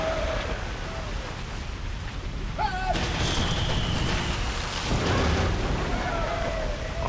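Ship cannons firing grape shot in the PC naval battle game Sid Meier's Pirates! (2004), heavy booming blasts layered over constant battle noise, with someone speaking throughout.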